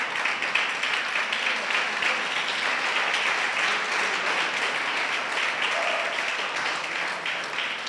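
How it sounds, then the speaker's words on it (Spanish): Church congregation applauding during a sermon, a sustained, dense roar of clapping from many hands that stays even and fairly loud from start to finish. "dale un aplauso al Señor"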